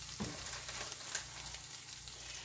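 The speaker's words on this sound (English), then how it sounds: "Fried bologna sandwich." Bologna frying in a pan in a mobile home kitchen, a steady, close sizzle and crackle that runs throughout at low volume, with one brief clink partway through and no talking.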